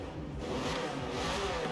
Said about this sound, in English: We're actually going to rev it while we're in this garage.